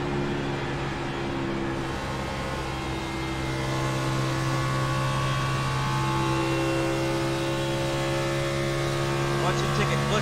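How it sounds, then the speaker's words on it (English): A race car engine heard onboard in the iRacing video game drones steadily down the straights at Homestead-Miami Speedway, a constant loud tone that slowly climbs in pitch. "take a quick listen to how hard he's going to run that car in on those straights and how hard he'll run it in on that turn"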